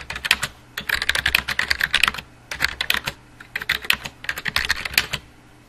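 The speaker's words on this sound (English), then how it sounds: "we can hold down the Shift key, press T, and that capitalizes the T" Close, crisp keystrokes on a computer keyboard come in quick bursts separated by short pauses, as a sentence is typed with the Shift key used for capital letters.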